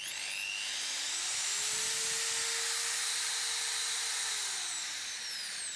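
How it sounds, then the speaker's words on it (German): An electric drill fitted with a cleaning brush attachment scrubs away stubborn grime, giving a loud, close motor whine that rises, holds steady for several seconds, then winds down over a constant hissing, bristly scrub. "Und hier kommt das alles auf eine Bohrmaschine."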